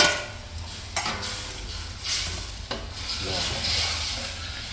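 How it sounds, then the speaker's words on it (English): Chicken chop suey sauce boils in a pan with a soft steady bubbling and sizzling hiss, broken by a few light clicks of stirring, close by and without speech. "Now see how the sauce is boiling."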